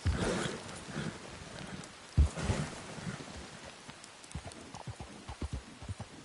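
Horse hooves clopping on ground in a video game, going down a mountain, irregular thuds that grow sparser and softer toward the end, with no voices.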